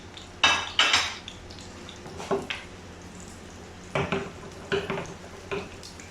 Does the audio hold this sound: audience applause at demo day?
no